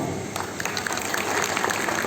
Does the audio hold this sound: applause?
yes